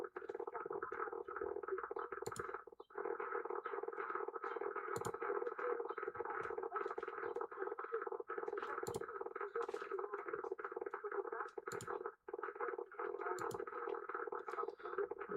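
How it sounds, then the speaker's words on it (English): Ignition noise interference on an HMV 2158 transistor radio during a repair, a faint, steady buzzing crackle with a constant rasping drone and brief dropouts and clicks, no talking. "I've got some ignition noise here"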